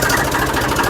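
A tractor engine running, a loud, close, steady rumbling drone with a regular low throb.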